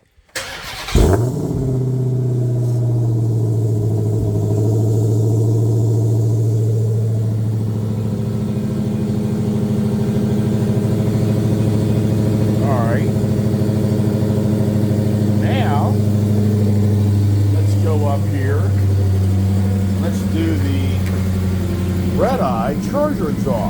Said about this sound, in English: let's do an exhaust start up here. All right, first thing let's do is do the Challenger Redeye exhaust